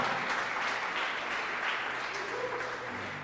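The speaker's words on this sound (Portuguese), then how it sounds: "Você pode aplaudir o Senhor?" A church congregation claps steadily and fairly loudly throughout, a dense wash of applause that fades slightly toward the end, with faint voices underneath.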